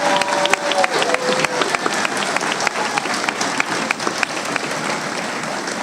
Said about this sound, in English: Please join me in applauding these students for all their hard work.